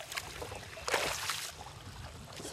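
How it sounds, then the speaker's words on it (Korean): A small dugout log boat moves up a shallow jungle river in Irian Jaya, with soft water swishes and splashes from the hull or paddling, one fuller surge near the middle, fairly close and quiet. "통나무로 만든 작은 배지만 뒤집어지지 않고 속도도 꽤 빠르다"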